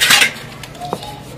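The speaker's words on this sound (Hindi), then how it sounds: "बर्तनों की धुलाई करनी है" Dishes, pots and cutlery being washed by hand at home, with a loud burst of clattering metal and crockery at the start, then quieter scattered clinks and knocks; no talking.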